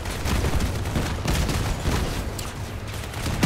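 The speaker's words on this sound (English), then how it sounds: "This guy's got some machine guns." Machine guns rattle in the video game Crossout, dense rapid fire pounding without pause, loud and close with heavy low thumps throughout.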